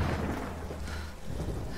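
A thunderstorm in the Tomb Raider video game gives a loud, dense roar of heavy rain with deep low rumbling, continuous and enveloping with no speech.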